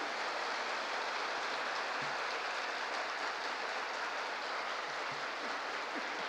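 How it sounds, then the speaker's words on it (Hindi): Audience applause at a speech event, a dense, fairly quiet patter of clapping that runs evenly throughout with a few soft thumps. "इन सबके मन में एक भाव है कि इन सभी के लिए एक जोरदार ताली हो सकती है"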